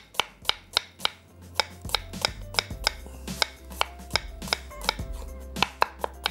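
A knife chops two onions on a cutting board in quick, even strokes, each one a sharp, close knock, keeping a steady rhythm throughout without any voices.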